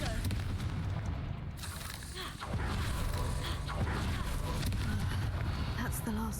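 Spell blasts and booming impacts from the Hogwarts Legacy video game as spider egg sacs are destroyed, dense rumbling bursts filling the mix with game voices and talk running over them.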